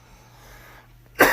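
A single sharp cough sounds close and loud at the very end, after a near-silent pause on a podcast.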